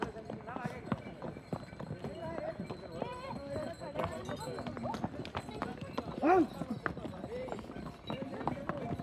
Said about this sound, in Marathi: हे बघा कसले आलेत घोडे, धावत धावत आलेत समोरून.